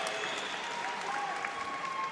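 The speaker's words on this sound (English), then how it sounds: "The hometown crowd obviously delighted." A home crowd at a football match applauds and cheers in a fairly faint, distant, even wash of clapping and noise, with a voice speaking faintly beneath it.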